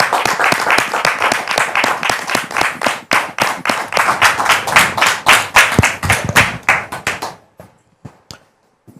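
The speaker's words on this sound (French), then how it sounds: "On peut la recevoir avec des applaudissements nourris." Hearty studio audience applause fills a French-language TV talk show, dense rhythmic clapping that carries on loudly before thinning out into a few scattered claps and near silence at the end.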